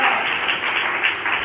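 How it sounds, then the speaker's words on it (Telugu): A church congregation claps together during Sunday worship, a steady dense wash of many hands sustained throughout without pause. "చప్పట్లు కొట్టి దేవుని మహిమపరచండి"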